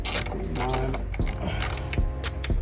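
Ratchet clicking as 13 mm strut tower brace nuts are loosened on a Dodge Charger/300 with a 6.4 or 5.7 engine, a run of close, steady mechanical clicks with a few sharper knocks.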